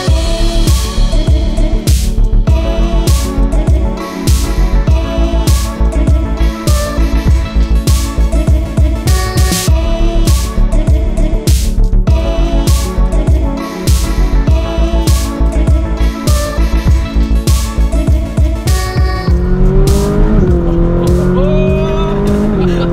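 A Ferrari FXX race car engine roars loud and close throughout, a steady high-revving howl with gear changes and rising and falling pitch near the end, with no talk over it.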